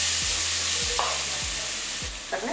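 Large tomato pieces sautéing in a pan for crab soup, a steady soft sizzle with a few low scraping stirs of the spoon at regular intervals, close and alone without any voices.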